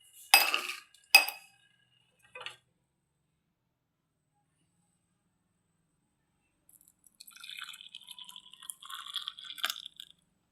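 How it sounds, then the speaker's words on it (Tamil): Black urad dal drink is poured into a tumbler: a few sharp clinks of utensils come first, then a quiet pause, then a soft, steady liquid trickle for the last few seconds. "இதை வந்து நாம் ஒரு டம்ளரில் ஊற்றிக்கலாம்."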